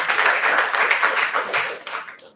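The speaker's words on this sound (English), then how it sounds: "A round of applause, everyone." Audience applause for a guest lecturer at an international politics lecture, a dense burst of many hands clapping close by that swells and then fades out over a couple of seconds.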